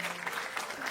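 Applause from an audience at a Kenyan political event marking the ODM and UDA broad-based government, a brief steady wash of clapping at moderate distance.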